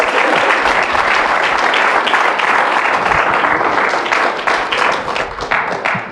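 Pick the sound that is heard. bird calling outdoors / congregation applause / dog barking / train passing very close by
congregation applause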